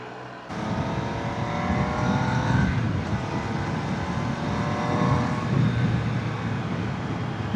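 A CFMOTO 800NK motorcycle engine runs while riding, a steady, loud, close drone that starts abruptly and holds even throughout, mixed with rushing wind noise.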